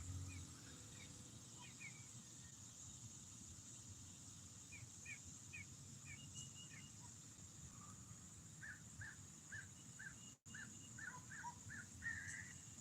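Crow calling outdoors in repeated short caws, several bursts spaced apart and growing busier toward the end, moderately distant over a quiet low hum and faint background noise.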